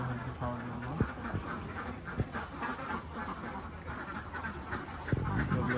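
Khaki Campbell ducks on a farm quack in a dense, overlapping chorus while being fed, with scattered louder quacks rising over steady close-by chatter and soft clatter.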